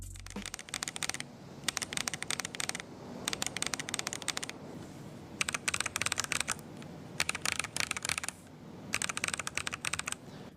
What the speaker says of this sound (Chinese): 这里把两款键盘都换成同一个轴体和键帽，给大家听一下不同填充下的区别